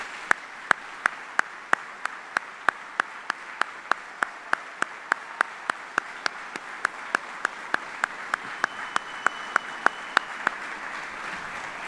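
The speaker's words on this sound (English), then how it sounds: "please join me in a round of applause for these 25 soldiers and civilians" Applause from an audience at a U.S. Army retirement ceremony for 25 soldiers and civilians: steady, even clapping with sharp, regularly spaced beats rising above a dense wash of hands, lasting throughout.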